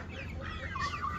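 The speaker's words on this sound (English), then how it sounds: "she's showing us chickens." Chickens clucking close by for a short moment, a steady murmur of soft clucks with one brighter call toward the end, and no talking.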